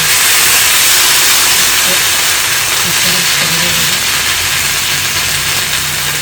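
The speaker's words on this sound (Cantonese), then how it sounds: "下一個步驟咧就係擺把牛扒上去。" Steak sizzling in a hot wok: an even, loud, close frying hiss sustained throughout, with a soft voice briefly under the sizzle midway.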